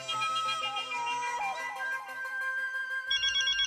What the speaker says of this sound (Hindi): वो बार बार उनके फोन की घंटी बजेगी